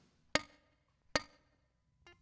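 Ukulele string lightly muted by the middle finger, giving two short, percussive thumps and then a fainter third, dry and close with no ringing pitch.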